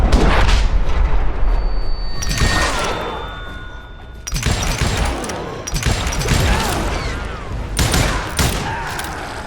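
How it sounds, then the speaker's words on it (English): Gunfire in the Western shooter Call of Juarez: Gunslinger, loud close volleys of shots and booming blasts in several bursts with brief lulls between, some ricochet whines trailing off. "now that the shooting had started, there was no backing down"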